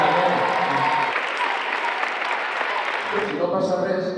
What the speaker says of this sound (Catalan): vull un fort aplaudiment per al nostre